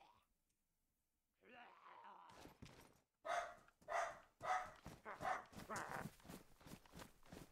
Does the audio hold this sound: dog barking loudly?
yes